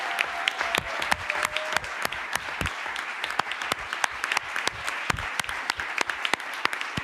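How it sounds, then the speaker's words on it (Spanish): Symposium attendees applaud the organisers with steady clapping, crisp individual claps popping out over a softer crowd bed throughout. "Si se pueden poner de pie para que todos los reconozcan y les puedan dar un fuerte aplauso."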